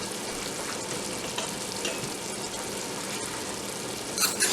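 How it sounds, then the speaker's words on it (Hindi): Masala and meat for aloo gosht frying in oil, a dense continuous sizzle with stirring scrapes, close and steady, a brief louder clatter near the end. "मसाला अच्छी तरह भुन गया है गोश्त के साथ"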